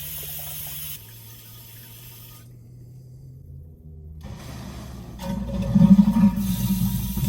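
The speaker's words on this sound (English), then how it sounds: "And then it proceeds into the flush mode, like so." A Tecma macerating toilet runs through its flush cycle: a low pump hum and water flow, then a near-silent pause, then water refilling the bowl and building to a louder, turbulent gush.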